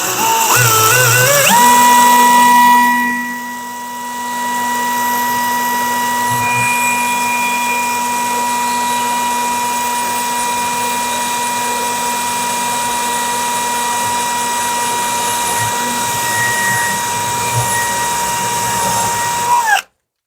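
A power drill bores steadily through ceramic shower wall tile, a high sustained whine holding close and loud for nearly the whole stretch after a brief start, then cutting off abruptly at the end.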